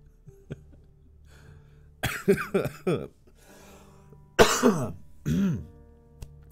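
Two separate bursts of harsh, raspy coughing a couple of seconds apart, close and fairly loud, with soft background noise between them.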